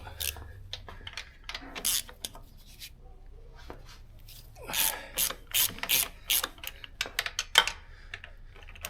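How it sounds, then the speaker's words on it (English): A ratchet wrench clicks rapidly while working a bolt on a car with a turbocharged LS engine. It plays as close, repeated bursts of sharp ratcheting with short gaps between strokes. "it would help if I grabbed the right wrench"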